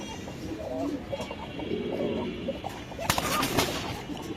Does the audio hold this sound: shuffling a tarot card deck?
no